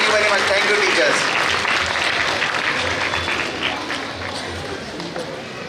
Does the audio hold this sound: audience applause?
yes